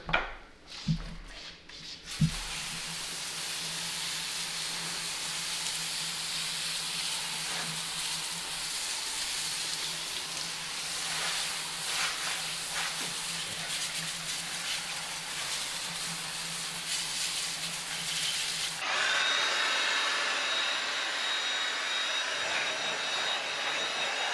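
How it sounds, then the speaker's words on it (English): A garden hose or pressure washer rinses a car wheel and tire with a steady, loud hiss of spraying water that runs unbroken for about twenty seconds after a couple of short bursts at the start. "we can go ahead and rinse it off with your hose or pressure washer"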